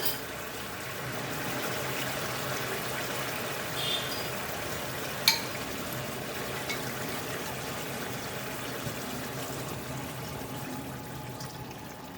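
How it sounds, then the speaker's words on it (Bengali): A pan of hilsa fish malai curry bubbles and sizzles softly and steadily at close range, with a faint tap partway through and no talking. "একটু ফুটে উঠুক"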